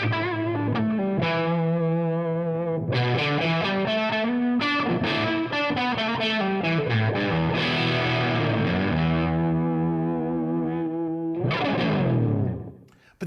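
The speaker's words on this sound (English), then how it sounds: "we can turn the resonance control down and get some really quite smooth filtering." Guitar played through a Seymour Duncan Fooz analog fuzz synthesizer, its low-pass filter set with resonance turned down, giving thick, smoothly filtered fuzz notes and sliding phrases that ring on steadily before a final chord decays.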